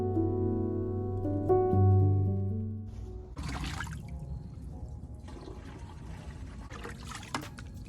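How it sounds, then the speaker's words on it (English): Water pours into a plant pot in a Maryland zone 7b garden: after some earlier tonal sounds, a faint, steady splashing stream takes over and continues with small bumps of handling noise. "going to fill this up with water first, and then I will add the compost tea"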